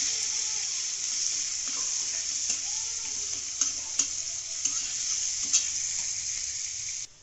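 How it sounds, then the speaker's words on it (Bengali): Chopped onion frying in a pan, a steady bright sizzle with repeated spatula scrapes and taps as it is stirred, close and loud with no talking. "পেঁয়াজটা আমার লাল লাল করে একটু ভাজা হয়ে গেছে"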